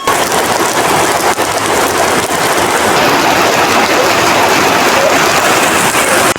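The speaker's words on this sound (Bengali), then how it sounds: "বৃষ্টির সাউন্ডটা অসাধারণ" Heavy rain pours down during a Kalbaishakhi storm in a village, a loud, dense, unbroken hiss of drops striking close surfaces, with no voices over it.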